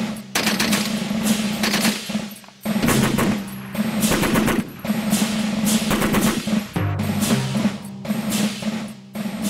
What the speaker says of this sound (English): The Maxim fired 50 times faster than the fastest rifle.